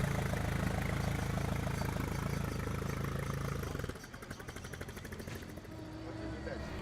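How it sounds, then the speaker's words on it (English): Vintage rally cars idle and rev in a parking area, a dense low engine rumble that thins after a few seconds to a lighter, pulsing idle, with talk over it. "The cars began to rev up, one leaving every 30 seconds."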